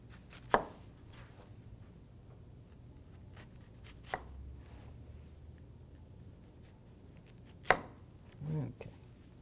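A knife slices through an onion on a board with three crisp, separate cuts a few seconds apart, each a sharp tap, against a quiet background.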